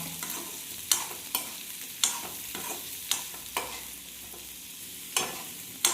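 Shallots and tamarind sautéed in a pan, a soft sizzle punctuated by regular scraping stirs of a spatula about once a second.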